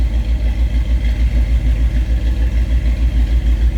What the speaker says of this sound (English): You hear that 350's got a nice rumble to it.